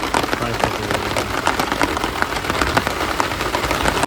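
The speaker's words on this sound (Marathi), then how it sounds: "पावसाने जोरच धरलाय" Heavy pre-monsoon rain pours around a shepherds' camp where cooking is under way, a dense, steady hiss with scattered sharper drop hits throughout.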